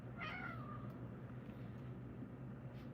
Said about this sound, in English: You're such bad cats, bro.